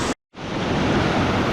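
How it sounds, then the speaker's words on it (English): Steady broadband rush of a river running high through a canyon, loud and continuous after a brief cut to silence near the start. "Walking up the river a little bit."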